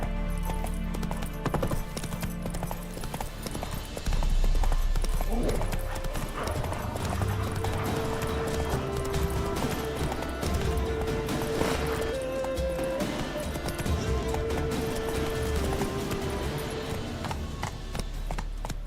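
Roach, a horse in The Witcher 3 video game, gallops in a steady, continuous clip-clop of hooves with a whinny partway through, set against a background game score and ambience.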